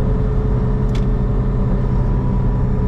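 A Lada Niva revs hard on the Nürburgring, its engine holding a loud, steady, droning rumble with a brief higher whine near the one-second mark and no voices over it.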